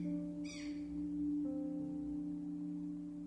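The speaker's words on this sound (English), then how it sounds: "Can you hear that bird? It's trying to get our attention." A single faint bird call chirps briefly early on over a steady low hum, distant and quiet, with no voices.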